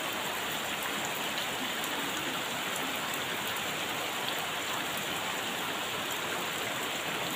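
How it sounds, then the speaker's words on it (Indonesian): Heavy rain pours steadily over a village, a dense, constant hiss that stays loud and unbroken with no voices over it. "Hujannya semakin deras, sahabat. Tuh, hujannya deras sekali, sahabat ya."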